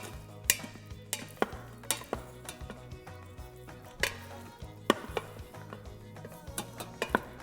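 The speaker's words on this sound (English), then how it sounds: "We'll go ahead and fluff it up with a wooden spoon or fork." Cooked rice in an Instant Pot is fluffed with a wooden spoon, giving a series of soft scraping strokes and repeated light knocks against the inner pot, steady and close.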